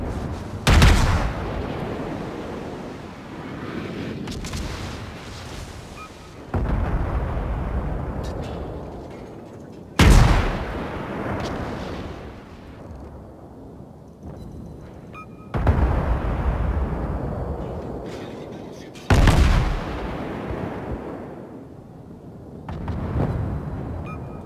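Heavy naval gun broadsides boom in World of Warships, four or five loud, deep blasts spaced several seconds apart, each followed by a long rumbling decay and a lingering battle-noise bed, with no talk.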